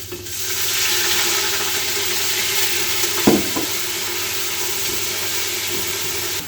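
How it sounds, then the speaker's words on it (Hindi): A hot pan of garlic, ginger and cumin sizzles steadily, then water hits it with a brief burst of hissing before the frying settles back to a constant sizzle. "और इसमें जाएगा थोड़ा सा पानी।"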